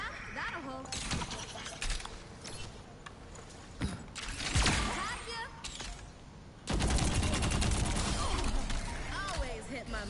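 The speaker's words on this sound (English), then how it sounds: "so basic gunfire, all that lot" Rapid bursts of Overwatch gunfire and mechanical clatter crowd a busy, loud mix, with sharp shots and a sustained barrage toward the end, voices underneath.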